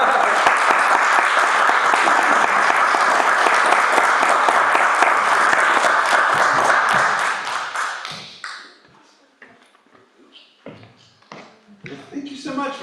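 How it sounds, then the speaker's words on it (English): Dense, loud applause from an audience after a presentation on teaching jazz improvisation to beginners, a sustained roar of clapping that fades out around eight seconds, leaving scattered late claps and faint movement. "Like another round of applause."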